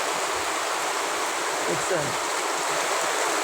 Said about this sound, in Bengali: কত জোরে পানি আইছে, মনে হয় বন্যা হয়ে যাবে, এতটা গতি পানির।